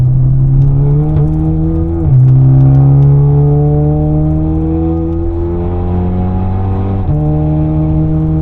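Volkswagen Golf 8 R race car with over 500 hp at full throttle on the Nürburgring, a loud close engine roar climbing through the gears with sharp drops at each upshift and no talk.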